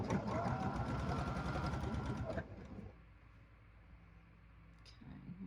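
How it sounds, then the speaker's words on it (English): A sewing machine runs steadily for about two seconds while stitching along the edge of a dress, then stops, leaving quiet room noise and a faint click. "I'm just going to sew a little bit closer, and then we'll seal that edge"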